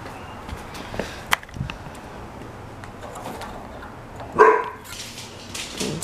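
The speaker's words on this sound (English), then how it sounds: "the dog is going to start barking" A single sharp dog bark rings out at a distance, with a few fainter knocks and outdoor ambience around it.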